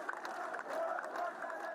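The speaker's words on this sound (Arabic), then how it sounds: "هتافات تطالب بإطلاق سراح المعتقلين من نشطاء الحراك" Street protest crowd in Al Hoceima, northern Morocco, chanting together, a steady mass of voices from a distance with rhythmic swells of shouting throughout.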